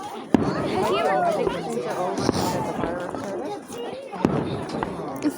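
Birthday fireworks go off with several sharp cracks and bangs over a steady roar, while a crowd chatters and people talk nearby throughout.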